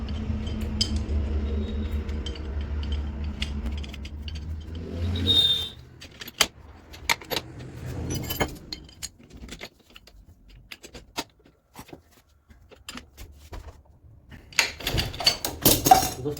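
Bolts being tightened on a Pulsar 135cc motorcycle engine during clutch fitting: a low rumble from a running engine nearby fades out, then a run of scattered metallic clicks, taps and clinks from tools and parts.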